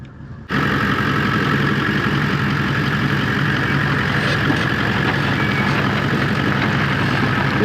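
A van's engine rumbling loud and steady as it eases down an off-road drop into a dip on a Cape York track, a constant low drone that kicks in after a brief quieter moment.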